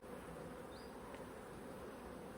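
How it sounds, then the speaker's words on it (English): Honey bees hum around an opened hive, a faint, even, continuous buzz with no voices. "And the bees are considerably bitey for it."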